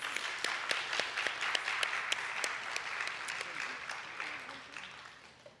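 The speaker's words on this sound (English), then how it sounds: "Let's give a big round of applause for our panelists" Audience applause for panelists at a nonprofit leadership careers event, a room of hands clapping in sharp irregular claps, fairly faint and distant, lasting several seconds and thinning toward the end with some voices mixed in.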